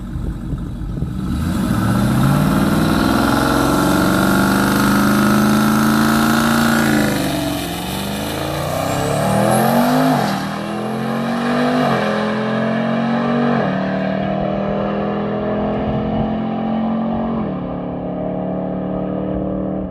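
A truck on a rented drag track idles with a steady rumble, then revs and accelerates hard on a low-boost shakedown run, the engine note rising and falling loudly and close before trailing off.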